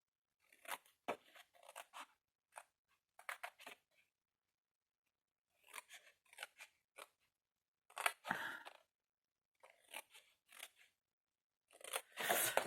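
Scissors cut a paper card for a mushroom-themed craft card, with bursts of crisp close snips separated by short silences and a longer, harder crunching cut toward the middle and end.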